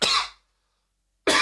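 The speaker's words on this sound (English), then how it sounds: "sometimes cough just shows up" Two loud, broad coughs or throat-clearing bursts from a person, one at the start and another after a second of silence, close to the microphone.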